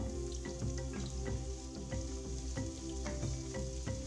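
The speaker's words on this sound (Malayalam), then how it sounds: "വെളുത്തുള്ളി 1 ടേബിൾ സ്പൂൺ, ഇഞ്ചി 1 ടേബിൾ സ്പൂൺ ഇത്രയും ചേർത്ത് നമുക്കിതൊന്ന് നന്നായിട്ട് വഴറ്റാം" Garlic and ginger sautéing in a pan for a Kerala-style fish curry made without coconut, with a steady close sizzle broken by regular spoon scrapes and clicks as the pan is stirred.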